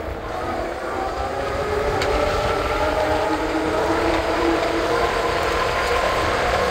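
An Ariel Rider Kepler electric bike accelerates at full throttle, giving a continuous loud rushing roar of wind and motor with a rising mechanical whine and no pauses.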